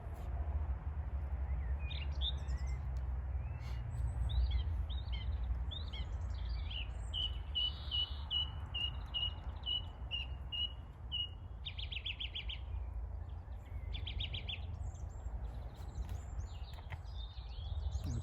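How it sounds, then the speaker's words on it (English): Several garden birds sing and chirp on a warm afternoon, bright repeated calls and trills layered over a constant low outdoor rumble, fairly distant and continuous. "We have a lot of birds here in our garden and they're enjoying the lovely weather and are serenading us."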